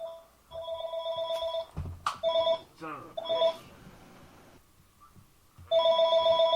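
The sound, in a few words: landline telephone ringing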